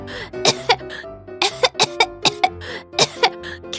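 A person coughs repeatedly in harsh bursts from kitchen smoke of frying fish, with rough throat-clearing sounds between fits, close by and loud.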